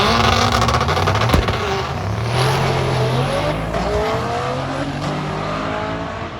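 A Gen 3 LT1 race car built to about 1,800 horsepower with a T56 transmission roars loudly at a drag racing event, its engine note rising and shifting as it accelerates away, with no talking.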